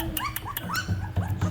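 Young puppies whimpering and yipping in a litter, a string of high, rising cries close by, with soft rustling and low grunting sounds underneath.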